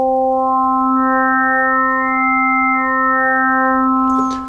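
A Flux wavetable synthesizer in Cubase holds a steady, bright sustained tone rich in harmonics while the wavetable position shifts, its upper overtones gently swelling and fading before the note cuts off at the end.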